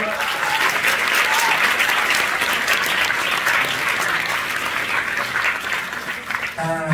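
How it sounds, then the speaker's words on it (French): A crowd at a film festival closing ceremony applauds with dense, steady clapping for several seconds, easing slightly toward the end as a voice starts. "Zoé, Raphaël, Lilou, Marois, Emma et Lola, qu'on peut applaudir s'il vous plaît."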